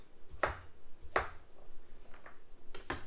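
Knife cutting food on a board during meal prep, three distinct close chops spaced about a second apart with a faint lighter tap between.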